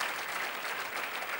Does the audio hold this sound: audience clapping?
yes